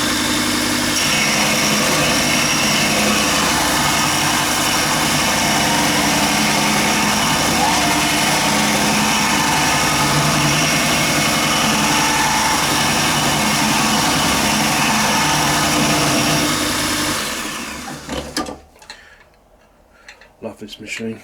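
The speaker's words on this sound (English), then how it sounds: "Gonna prep for turning, just sharpen up the bowl gouge a bit." A Pro Edge sharpening machine sharpening a bowl gouge, giving off a loud, steady, high whirring grind for most of the stretch before it cuts out, followed by a few faint knocks.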